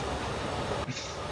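A runaway train in the video game Forgotten Anne rolls on with a steady rumbling, rattling roar that cuts off abruptly near the end and gives way to a thinner hiss.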